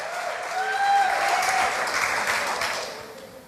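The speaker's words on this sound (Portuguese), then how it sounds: "Quem entendeu, dê um aplauso e um grito de vitória." A church congregation at a Portuguese-language sermon bursts into applause and cheering that swells, holds steady and then tapers off over a few seconds.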